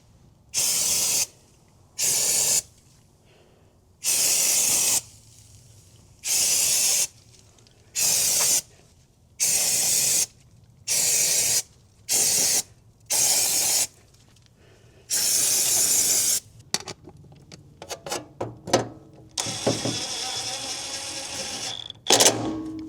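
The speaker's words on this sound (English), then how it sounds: "hit it with some brake clean, just kind of get some of the grody-ness off of everything" Brake cleaner sprays in repeated bursts of about a second each onto the engine of a 1991 Subaru Sambar kei truck, sharp loud hisses separated by short gaps, then trailing into clinks and handling noises near the end.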